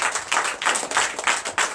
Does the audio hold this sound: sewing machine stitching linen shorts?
no